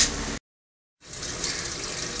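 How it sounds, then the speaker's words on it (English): Water pours into a washing machine drum in a Japanese home, a steady rushing flow that cuts out briefly and then resumes as a continuous close gush. "it's starting to pour the water into the machine."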